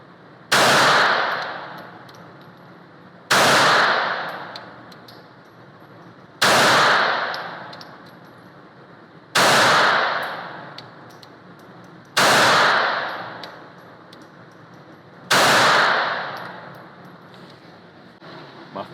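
Six sharp gunshots from a Smith & Wesson Bodyguard 380 pocket pistol at a shooting range, fired one at a time about three seconds apart, each loud close crack followed by a short decaying ring.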